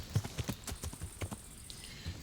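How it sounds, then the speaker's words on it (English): Horse hooves clip-clopping at a walk in the medieval video game Kingdom Come: Deliverance, a quiet, even series of soft thuds about two or three per second. "Let me just move my horse a bit away from them"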